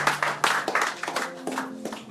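A church congregation claps in praise, giving a steady run of loud, even handclaps close by, with some voices mixed in.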